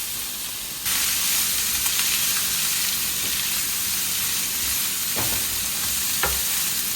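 Finely chopped onion, cut small as for an omelette, sizzles steadily in a hot tawa pan with a loud, continuous hiss, broken by a few sharp stirring scrapes.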